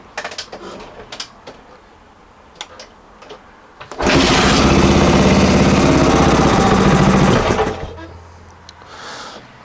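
A Honda XR600R engine with a replaced camshaft is cranked after throttle pumps, with clicks and handling noise at first, then a loud, close, sustained cranking churn lasting about four seconds before cutting off, and no sign of it catching.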